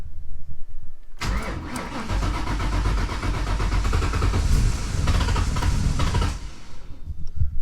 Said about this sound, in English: just gonna go ahead and start her up